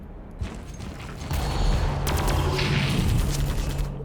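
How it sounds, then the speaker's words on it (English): Mortar fire rumbles in the background of Warhammer 40,000: Armageddon, a dense, continuous barrage of low booms and crackling impacts that swells louder after the first second and holds steady with no talk. "These mortars are doing their work, eh? These mortars in the background."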